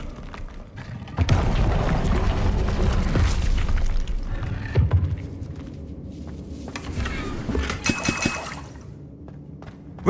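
A Confringo spell in Hogwarts Legacy goes off with a deep booming blast, followed by rumbling debris and scattered crackles that fade, then a second sharper flare of noise, with no talking.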